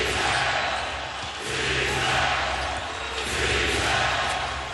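A crowd at a Celtics versus Heat playoff basketball game roars loudly and continuously on its feet late in the fourth quarter of game 5, a dense wall of cheering with no clear voices standing out.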